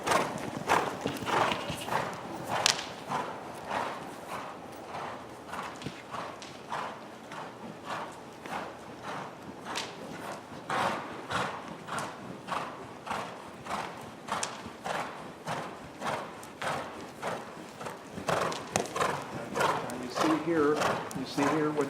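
Horse cantering during a riding lesson: a regular three-beat drum of hoofbeats on footing that passes nearby, with a person talking over it.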